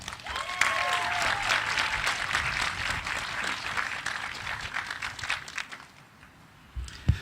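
An audience at the unveiling of a new library building in Charlotte applauds to welcome poet laureate Jay Ward, steady crowd clapping that swells early and slowly fades out, followed by a brief bump of noise.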